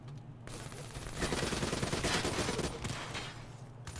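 Rapid automatic gunfire in Call of Duty Black Ops 3, a dense burst of close, loud shots that builds after a quiet start and runs for several seconds before easing off.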